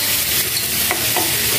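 Mustard greens stir-fried in a hot pan with salt added, giving a steady, loud sizzle and frying hiss with a few scraping stirs, close up and without talk.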